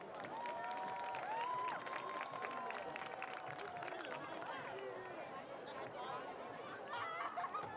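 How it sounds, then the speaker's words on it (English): A crowd at a high school football game honoring junior royalty gives scattered applause and cheering, fairly distant, with chatter and voices over it throughout. "How about another round of applause for our junior royalty?"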